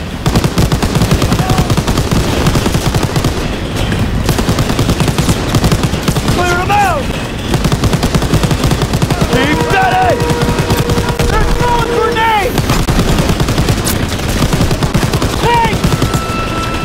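Video game gunfire from a train in Call of Duty WW2, rapid machine-gun bursts and shots running throughout, loud and dense, with shouted voices and whistling tones over the battle din.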